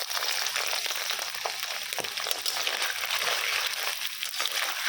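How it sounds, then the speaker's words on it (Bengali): Paneer pieces in hot oil give a steady, close sizzle and spatter that runs throughout without pause, with no talking over it. "হালকা ভাজবো পনিরটাকে"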